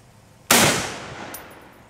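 A single loud, close gunshot from a .45-70 rifle fired at body armor, its sharp crack followed by a long fading echo and a faint metallic ring near the end.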